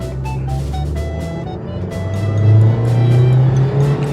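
A Toyota TownAce camper van pulls away from a traffic light, its engine droning low and rising in pitch as it accelerates, heard from inside the cabin, loud and steady.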